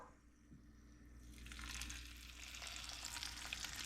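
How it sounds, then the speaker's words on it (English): Food shallow-fried in a small amount of oil in a pan, starting quiet and then erupting into a loud, steady sizzle and crackle as pieces hit the hot oil. "Right in there, get a nice little fry on that."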